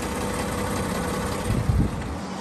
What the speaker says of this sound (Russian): Мотор работает отлично.